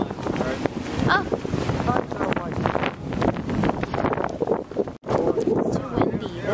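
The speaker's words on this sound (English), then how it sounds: "It's too windy." Strong gusts buffet the microphone in a loud, steady rumble, with voices talking briefly underneath the wind noise.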